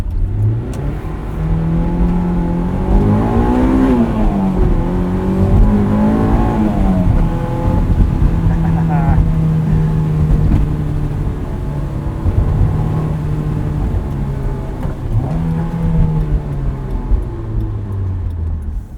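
A 2001 Honda S2000 on X-Ice snow tires drives in winter, its engine a steady loud drone that rises and falls with revs and gear changes, the pitch sweeping up and back down several times throughout.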